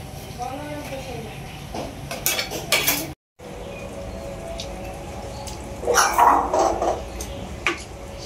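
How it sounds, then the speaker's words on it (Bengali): A metal wok (kadai) slips from a hand and clatters against kitchen surfaces with a sharp metallic burst, amid ongoing kitchen noise and background voices. "আরে এই কড়াইটা আমি ধরতেই হয়ে পিছলে গেছে।"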